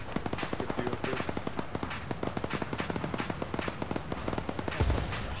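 Gunfire in the ShackTac military shooter game, a rapid run of sharp repeated shots at a steady rhythm, moderately loud and fairly distant, with a heavier thump near the end.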